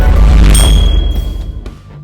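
A single bright notification bell ding rings out loud and close, then rings and fades over about two seconds.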